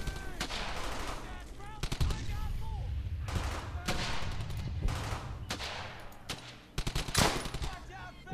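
Rapid bursts of machine gun and rifle fire in the video game Brothers in Arms: Hell's Highway, loud cracking volleys repeating across the scene under a steady battle din, with voices shouting in between.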